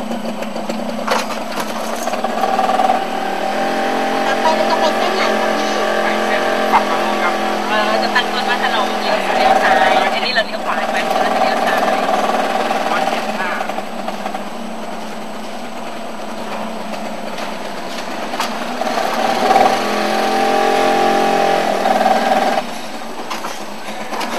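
A shuttle bus engine runs at a Thai floating market, with a steady idling drone and hum that persist at moderate loudness as someone speaks over it.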